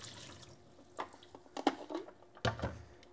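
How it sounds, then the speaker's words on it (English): Water poured out of an AGO film processing tank after developing C41 film: a soft, quiet liquid splash with a few brief dripping bursts, faint and close, no talking. "take off the ago and pour out the water"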